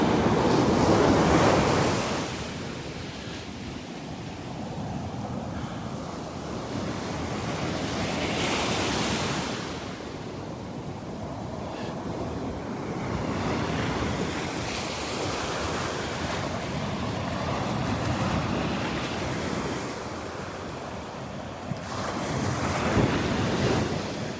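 Ocean surf rolls and breaks on Vanderbilt Beach, steady washing roar with a louder crash at the start and end, wind buffeting the microphone throughout and no voices.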